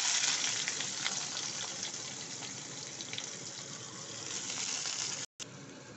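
Brinjal and green chillies with salt and turmeric fry in a pan, a dense, bright sizzle that runs steadily throughout with a brief break near the end, no talking.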